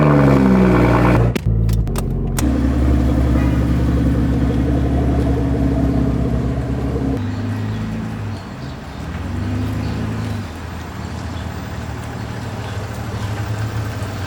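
A BMW X5 with a B58 engine pulls in, its engine rumbling loud and close at a steady low idle, with a brief dip and shifts in tone as it moves and settles.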